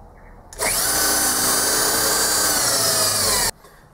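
A power drill bores into the bed of a Gingery lathe, a steady loud whine that starts abruptly and runs unbroken for about three seconds before cutting off, close and alone.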